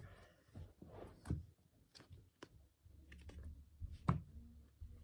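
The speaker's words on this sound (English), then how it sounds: "I'm gonna shuffle them a bit" Soft clicks and riffling flutters of playing cards being shuffled close by, in a few irregular bursts with brief pauses between.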